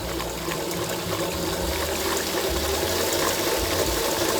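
An electric mixer whisks egg yolks, milk and sugar in a bowl, a loud, steady, close whirring churn of liquid that runs without a break.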